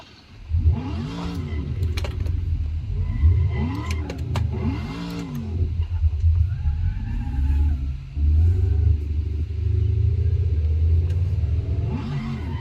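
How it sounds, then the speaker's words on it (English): A car engine revs loudly and repeatedly as the driver attempts a drift, the pitch rising and falling in several surges over a steady, close rumble. "we got an almost successful drift there"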